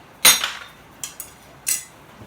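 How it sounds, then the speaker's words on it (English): A ball peen hammer striking metal in a home workshop, three sharp ringing impacts spaced about a second apart, close and fairly loud with short metallic decay and no voices. "Take a ball peen hammer"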